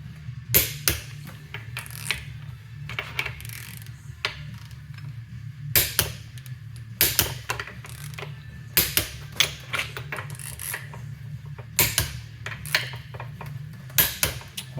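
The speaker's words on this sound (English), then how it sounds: "we're going to tighten our caps here to 80 foot-pounds" A torque wrench tightens the bearing caps on a 9-inch axle over a steady low hum. Clusters of sharp metallic clicks and ratcheting come in irregular bursts, close and fairly crisp, with no talking.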